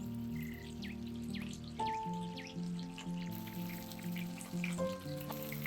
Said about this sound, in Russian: И пока курица жарится на среднем огне